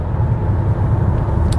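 Engine of a 2008 Citroen C4 Picasso droning steadily under acceleration, a close, continuous low rumble with little change in pitch over a short stretch.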